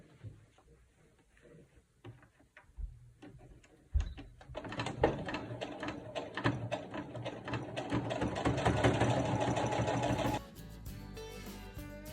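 A sewing machine stitches through a chenille baby blanket, starting with a few faint clicks and taps, then running in a fast, steady mechanical whir that stops abruptly near the end.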